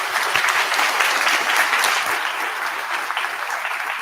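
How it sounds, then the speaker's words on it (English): An audience claps for a panel at a sustainable buildings showcase night, a steady wash of applause that holds evenly and tapers slightly near the end. "round of applause"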